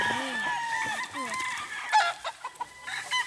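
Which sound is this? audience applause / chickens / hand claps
chickens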